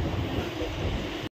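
Inside the Konkan Kanya passenger train, a brief, steady low rumble and hum of the moving carriage runs at even volume, then cuts off abruptly.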